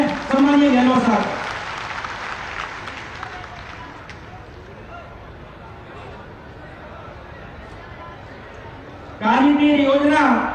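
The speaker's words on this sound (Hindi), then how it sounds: "एक बार जोरदार तालियों से अभिनंदन करें सम्मानीय गहलोत साहब।" A crowd greets Chief Minister Ashok Gehlot at a public camp in Marena, Rajakhera, with bursts of loud clapping at the start and again at the end, separated by a low murmur of crowd noise.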